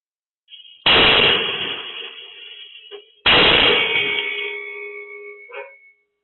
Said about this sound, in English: isn't until 3:40 a.m. when Tiffany and Ross wake to the sound of two more explosions.